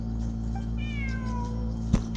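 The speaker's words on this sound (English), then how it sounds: "Look, a cat." A cat in the video game Genshin Impact gives a single drawn-out, falling meow over a constant low game hum, with a brief soft thump near the end.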